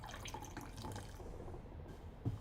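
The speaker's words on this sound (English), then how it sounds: "you can probably hear me pouring a can of Pepsi into the glass" Pepsi pours and fizzes steadily from a can into a glass, bubbling close by, with a small clink near the end.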